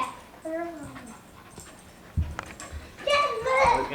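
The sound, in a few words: dog Jasper whimpering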